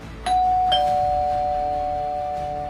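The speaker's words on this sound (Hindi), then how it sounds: "तभी डोरबेल दोबारा से बजने लगता है" A doorbell rings twice in quick succession, two sharp electronic chimes whose tone then hangs and slowly fades over a low room hum, loud and close with no voices.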